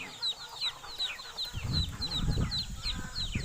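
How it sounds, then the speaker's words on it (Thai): Chickens on a farm raised alongside Muscovy ducks give short, repeated high clucks and chirps, followed by a lower rustling, scratching bustle as the flock feeds close by. "มาชม ฟาร์มไก่นะครับ เยอะมากๆเลยนะครับ"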